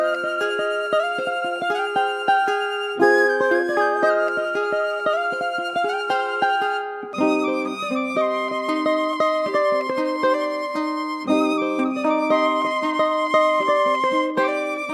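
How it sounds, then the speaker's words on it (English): A looping hard-trap beat part layers two live guitars with a Prophet analog synth, plucked notes in a busy repeating melodic pattern that shifts at regular bar breaks, steady and upfront with echo effects and no voices. "We're gonna be breaking down a crazy live guitar loop."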